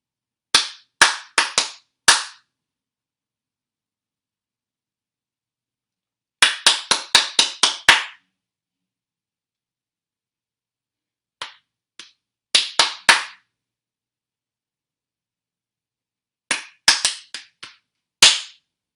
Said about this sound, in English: I'm going to start a rhythm, clapping rhythm